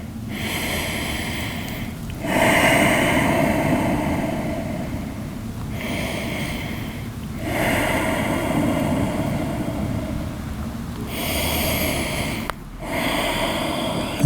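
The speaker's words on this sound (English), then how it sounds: "Deep inhales, long exhales." Deep, slow breaths during a relaxing post-workout yoga stretch, long airy inhales and exhales cycling in a steady rhythm, close and fairly loud with no talking.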